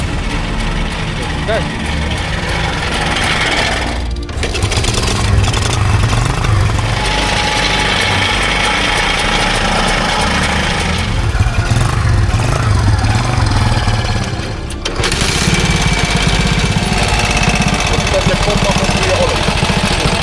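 Motorcycles, including a Harley WLC, started and idling at a motorcycle swap market in Toruń, a loud steady engine chug running throughout with brief dips as engines cut and restart.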